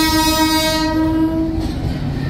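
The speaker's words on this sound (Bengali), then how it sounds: "আমাদের ট্রেন এই মুহূর্তে এসে পৌঁছালো উত্তরপ্রদেশের সাহারানপুর জংশন।" The Dehradun–New Delhi Jan Shatabdi express pulls into Saharanpur Junction in Uttar Pradesh in the evening, sounding a loud, close, sustained horn blast that fades into the rumble of the rolling train.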